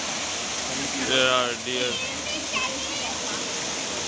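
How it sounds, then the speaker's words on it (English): A steady wash of falling water from a waterfall in a cave area at Ramoji Film City hisses continuously, while a person speaks briefly over it. "There's the waterfall."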